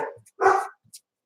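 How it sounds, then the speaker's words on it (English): A dog barks from far across the house in a living room, one loud burst followed by a short quieter yip, heard alone with no talking. "Sorry for the barking."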